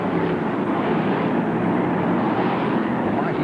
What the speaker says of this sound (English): Roar of these really powerful engines as they come thundering through, shakes the commentator's box in front of us